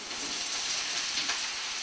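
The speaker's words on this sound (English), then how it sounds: "So let's throw in the zucchini." Zucchini hits a hot pan and sizzles, giving a steady, close frying hiss with light crackle throughout and no talk.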